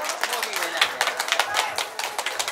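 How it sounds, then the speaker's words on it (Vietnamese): Wedding guests applauding for the newlywed couple at a Vietnamese wedding ceremony, a steady patter of many hands clapping close by for a couple of seconds. "xin một tràng pháo tay để chúc hạnh phúc cho hai cháu Quyền và Linh ạ"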